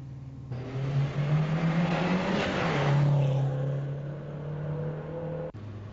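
A Renault 5 GT Turbo's engine hums steadily and rises in pitch as it accelerates, then settles into a sustained drone, fairly close and continuous throughout.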